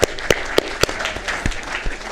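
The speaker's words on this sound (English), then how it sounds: "a big round of applause for her" Scattered applause at a Downey city council meeting in 2019, a few sharp claps at first, then a thin, uneven patter of hands from a modest audience.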